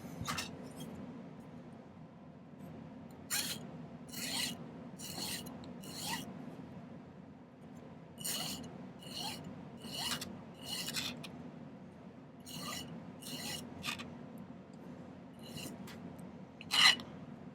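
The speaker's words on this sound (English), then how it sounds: "I'm just going to file one of these ends to kind of a point in one dimension." A file rasping the end of a silver wire to a point, heard as short bursts of sharp strokes in irregular groups with pauses, close and fairly quiet.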